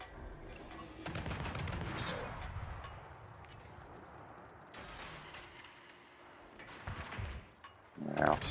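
Naval gunfire from warships in a video game, with bursts of heavy shelling and rapid firing that come in waves of booming salvos and crackling volleys between quieter stretches, ending in a loud close burst.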